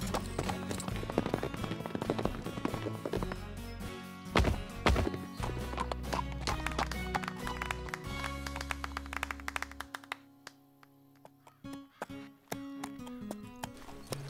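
Horse hooves pound in a quick, uneven clip-clop rhythm while galloping toward a jump in an animated show, fairly close, over a muffled background with scattered taps and thuds.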